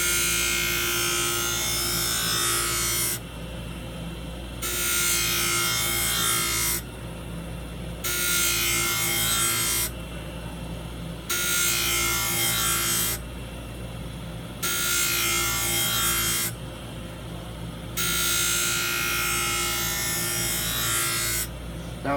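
A skate sharpening machine's wheel grinds along a skate blade from tip to heel in repeated passes, each a loud, rough, high grinding rasp lasting a couple of seconds, alternating with quieter gaps of the wheel spinning over a steady motor hum.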